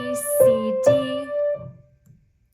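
A piano plays a short right-hand phrase from a song, a few clear single notes ringing and fading to silence.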